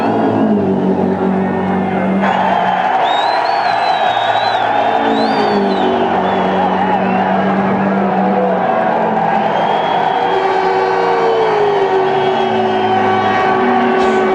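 Spectators roar and cheer at the top of the mountain at Bathurst during the 1997 1000-kilometre touring car race as Larry Perkins' car comes around, with engine noise layered under the steady crowd din and commentary over the top.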